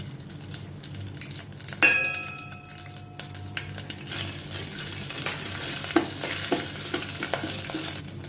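A teaspoon of ginger paste hits hot oil in a pan, a sudden sizzle swelling up, followed by ongoing frying hiss with stirring scrapes and occasional utensil clinks.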